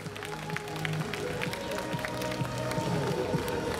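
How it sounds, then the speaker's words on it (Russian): Continuous crowd applause at a rhythmic gymnastics festival performance, many hands clapping together, steady and fairly loud, mixed with background crowd noise and some music-like tones. "Бурные аплодисменты."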